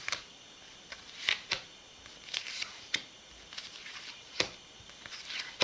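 Tarot cards are shuffled and drawn one by one in a quiet room, giving soft papery slides and scattered light taps and flicks at an uneven pace, close and faint.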